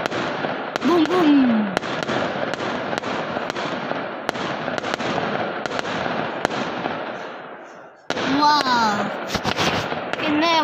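Neighbours set off New Year firecrackers, producing a long run of sharp bangs and crackling bursts close by, with whistling tones rising and falling and voices heard at times.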